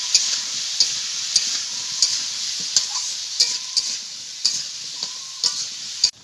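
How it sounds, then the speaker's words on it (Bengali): Potato pieces frying in hot oil after salt and turmeric go in, a steady bright sizzle broken by repeated sharp scraping stirs of a spatula against the pan, roughly one every half second to second. "এবার ভালো করে ভেজে নেব।"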